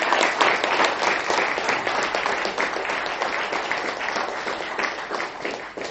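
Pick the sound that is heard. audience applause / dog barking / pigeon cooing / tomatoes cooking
audience applause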